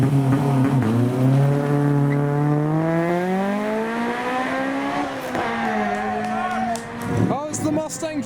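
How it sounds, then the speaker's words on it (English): A Mustang drift car roars past at night, its engine revving in rising and falling sweeps with hints of tire squeal, loud and close, with a voice talking over it. "Oh, it's the Mustang drift car."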